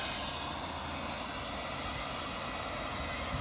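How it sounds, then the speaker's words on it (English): A Yarbo robot leaf blower runs on its high setting, a loud, steady broadband whoosh of rushing air that stays constant with no breaks or talking. "this is the high setting on the blower as well. I have to shout a little bit"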